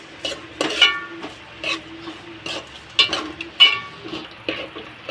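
Onions frying in a pan for chicken curry, stirred with a utensil that scrapes and knocks against the pan in repeated close strokes over a soft sizzle.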